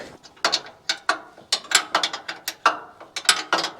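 Rapid ratcheting clicks from a wrench loosening a bolt on a lumber mill, a fast irregular series of sharp metallic ticks, close and fairly loud.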